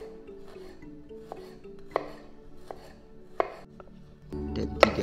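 Shallots, garlic and red chilies being sliced on a cutting board, with a steady series of soft knife taps and a few sharper knocks, ending in a louder burst of handling noise.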